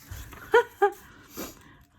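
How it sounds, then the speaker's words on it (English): A house dog whimpers to be let out, giving two sharp, high yips close by followed by a softer whine, with quiet room tone between. "Oh, that's the dog wanting to go out."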